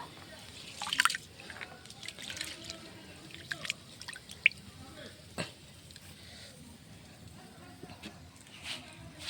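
Soaked rice is washed in water by hand, giving faint, scattered splashes, drips and trickles with brief louder sloshes, quiet and close.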